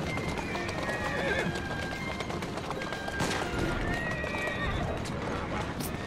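Horses gallop with steady clip-clop hoofbeats and repeated neighs and whinnies in Assassin's Creed Syndicate, loud and continuous under game music and effects.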